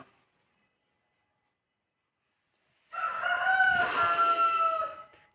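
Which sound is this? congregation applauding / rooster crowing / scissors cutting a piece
rooster crowing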